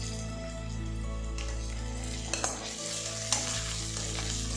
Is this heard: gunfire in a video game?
no